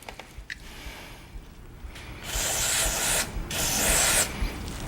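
Electronics cleaner is sprayed onto the circuit board of a Digi002 audio interface in two long, close hissing bursts, each ending in a brief pause, after quieter handling noises.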